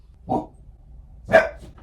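A dog barks twice, indoors: one short bark, a pause of about a second, then a louder, sharper second bark, with no talking over it.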